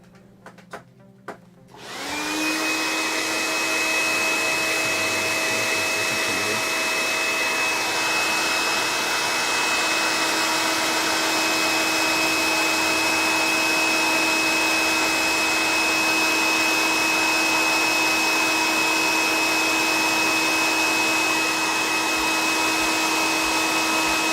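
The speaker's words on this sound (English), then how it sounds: "Hit him a quick blow dry." A hair dryer blows on a freshly painted miniature figure, switching on after a few soft clicks and then running as a loud, steady whooshing whine held close for a long stretch.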